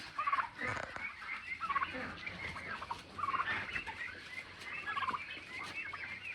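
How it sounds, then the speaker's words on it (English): Large farm turkeys gobble in repeated bursts, about four rippling calls spaced a second or so apart, over quiet outdoor ambience. "And these are the really big turkeys."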